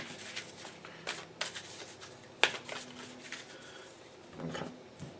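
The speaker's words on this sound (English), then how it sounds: "I think we're going to shuffle these a little bit." A deck of tarot cards is shuffled by hand at close range. Quiet, intermittent riffles, rubs and soft card slaps come with one sharper snap midway.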